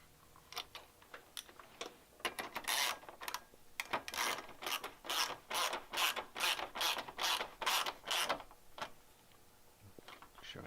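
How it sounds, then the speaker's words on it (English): A ratchet clicks in a steady run of rapid strokes as a nylock nut is tightened on the hardware of a fender eliminator kit for a Honda SF Grom motorcycle, close up, each pull a burst of dry ticking, with no talk. "put the washer and nylock up top, and then secure the nylock."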